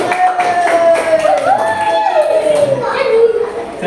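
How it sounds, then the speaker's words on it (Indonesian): Schoolchildren in a third-grade classroom clap together in a rhythmic chant, their voices loud and close, with steady hand claps running under the children's chanting. "Tepuk tangan dulu, jawab."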